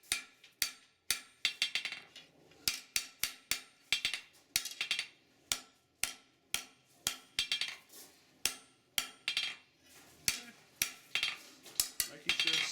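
Steel knife blade with a full tapered tang being hammered on the flat face of an anvil, a steady run of sharp metallic ringing blows, some in quick pairs, close and fairly loud with no talking.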